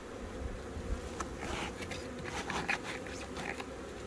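Honeybees swarming over a hive frame in early spring, a continuous busy buzz close by, with scattered brief wing and body taps, and no talking.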